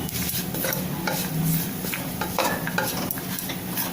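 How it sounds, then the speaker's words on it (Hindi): Cashews roasting lightly in a pan for a shahi kaju paneer samosa filling, a steady soft sizzle with frequent scraping stirs of a spatula against the metal, close and continuous without talk. "थोड़े से हल्के भून जाए, इसलिए इसको थोड़ा सा भूनना है।"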